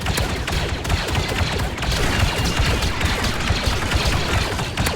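Rapid volleys of Star Wars blaster guns in a VR shooter game ring out in dense, continuous bursts, loud and close, with no pauses across the stretch.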